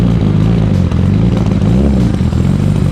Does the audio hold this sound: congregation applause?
no